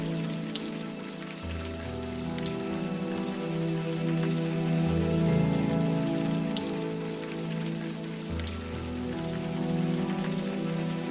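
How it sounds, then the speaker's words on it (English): Steady rain in the video game Unavowed patters and hisses without pause, layered over a low, sustained musical drone that shifts slowly; no voices. "The rain isn't helping, that's for sure."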